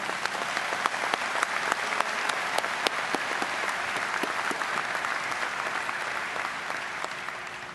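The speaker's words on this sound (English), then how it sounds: "I'd like for you to give them a big applause for a job well done" Large audience applauding steadily at a veterans' convention, dense sustained clapping with sharp individual claps standing out, loud and continuous throughout.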